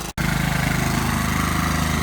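A lawn mower engine runs at a steady, even chug just after a brief cut-out, loud and close, with no voices, as mowing of grass and leaves begins.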